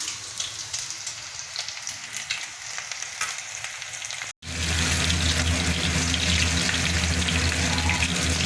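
Food frying in a pan in a home kitchen, a steady crackling sizzle that cuts out briefly midway and returns louder and denser, with no talk over it.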